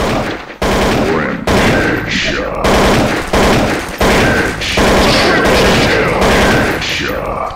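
Rapid bursts of automatic gunfire from a Counter-Strike: Source match on the de_dust map, loud and near, in repeated volleys separated by brief gaps, with a player speaking between the shots.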